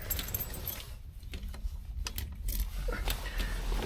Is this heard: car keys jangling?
yes